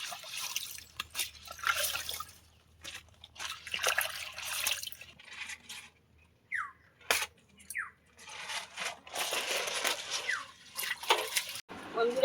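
Water splashing and trickling as taro leaves are washed clean in a kitchen, with uneven bursts of running and dripping water close by and a few brief pauses.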